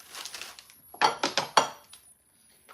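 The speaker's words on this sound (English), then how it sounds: "I'm going to get this cutting board over here" A cutting board set down on a kitchen counter while preparing a loaded garden salad with romaine lettuce, a few sharp clattering knocks in quick succession, close and fairly loud, alone with no talk.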